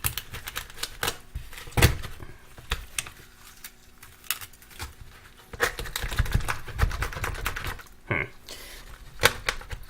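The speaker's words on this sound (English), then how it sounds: "So using a chef knife, I always just go right through the back." A chef knife chops through a chicken's back and ribs on a board, giving sharp, irregular thuds and cracks with pauses between cuts. Several heavier strikes stand out, close and fairly loud.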